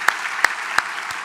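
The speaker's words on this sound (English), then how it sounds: "I see my team clapping." A few sharp, evenly spaced claps from a small team in a lecture hall, close and distinct over a quiet room tone.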